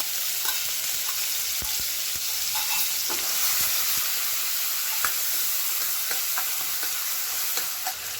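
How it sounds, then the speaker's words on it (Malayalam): Crushed garlic, ginger and shallots with fenugreek sauté in hot oil, giving a steady close sizzle broken by scattered clicks of stirring throughout. "ഇത് നന്നായി വഴറ്റി കൊടുക്കുന്നുണ്ട്"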